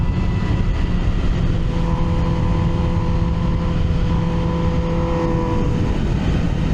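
An MV Agusta Brutale 1000 RR motorcycle engine runs on the Assen circuit, a continuous loud onboard drone with steady tonal whine that rises slightly in pitch midway, with wind roar underneath and no talking.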